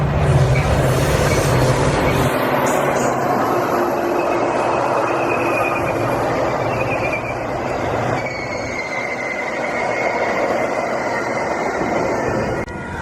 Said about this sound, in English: here comes the Metro train